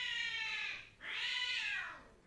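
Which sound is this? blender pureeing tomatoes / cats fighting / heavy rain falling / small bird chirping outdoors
cats fighting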